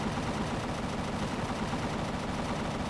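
Turret gunfire in the video game Empyrion, aimed at wildlife, a continuous rapid rattle of shots, soft and distant, steady throughout.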